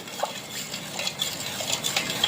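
Herbal hair oil blended with rosemary essential oil, stirred with a spoon that gives light scraping swishes and faint clinks against the container, close and quiet.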